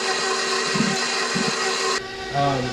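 Electric mixer running on low speed, working butter into flour for buttermilk biscuits, a steady close motor whir with a few soft knocking bumps and a shift in pitch near the end.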